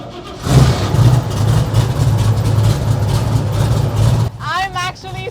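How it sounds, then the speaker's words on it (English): 1968 Chevrolet Camaro engine catching on a cold start and settling into a loud, rough rumble, a voice speaking near the end. "Let's get a cold start of the 68 Camaro."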